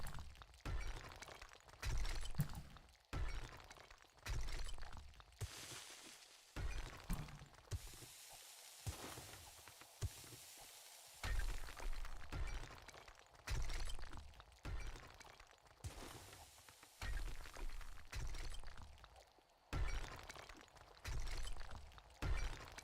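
Glass breaking in the 7 Days to Die video game: a run of loud, crunching shatter bursts with short gaps between them, close and clear, with no talking over them.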